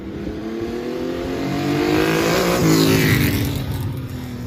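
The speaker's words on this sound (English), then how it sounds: "still a double overhead cam, 6-cylinder sideways with 6 individual headers coming off the front and a great noise" A 1977 car with a transverse double overhead cam six-cylinder engine and six individual headers revs up and eases off, its loud, rasping note rising in pitch toward the middle and falling again, with no talking.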